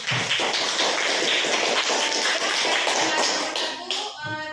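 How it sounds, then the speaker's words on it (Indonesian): A group claps together in a dense burst of applause that fades out near the end, followed by a brief voice. "kita beri tepuk tangan dulu"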